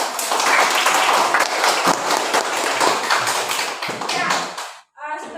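Dense, steady clapping from a class of schoolchildren fills the room for nearly five seconds, close and loud, then cuts off sharply into a brief pause and a short final burst.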